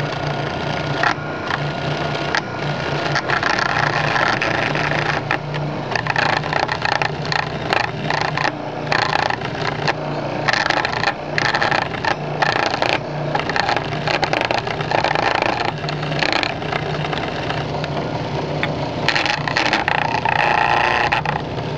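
A homemade benchtop lathe runs steadily, its motor whirring continuously while a tool chatters and scrapes unevenly against the turning workpiece, loud and close throughout.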